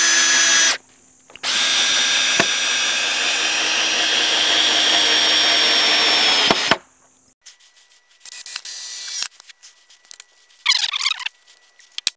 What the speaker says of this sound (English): And then once that's done, screw it all down.